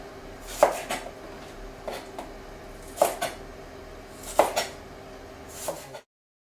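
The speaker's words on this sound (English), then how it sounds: "Just going to prepare our asparagus. Cutting into long strips." A kitchen knife strikes a cutting board a few times while slicing cold asparagus into long strips, with sharp separated taps and soft scraping between them.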